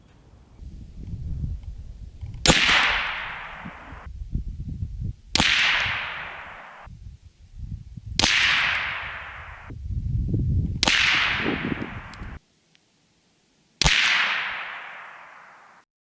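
Five .22lr rifle shots with CCI Stinger ammunition, each a sharp, close crack with a brief ringing tail, spaced about three seconds apart, with low rustling and handling noise between them.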